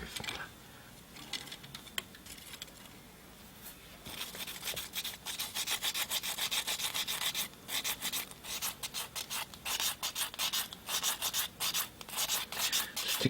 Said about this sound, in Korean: 스틱 사포로 해서 이렇게 돌리면서 살살 전체적으로 해주시면